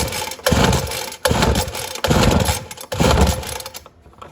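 A Ryobi RY09056 or RY09550 leaf blower engine being pull-started, with four loud, close cranking bursts that sputter and briefly catch before dying, followed by silence.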